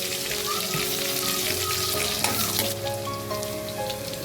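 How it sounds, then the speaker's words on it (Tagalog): Chopped garlic sautéing in oil in a pan for a Filipino fish and shrimp-paste dish, a steady close sizzle and crackle running throughout with a faint tonal hum in the background. "Igisa natin yung bawang."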